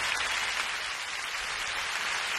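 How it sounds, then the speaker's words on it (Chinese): Dense concert applause from an audience at a 2003 Hong Kong concert, a steady broadband roar of clapping that stays even throughout without any voices. "给一些热烈的掌声我们三位好不好"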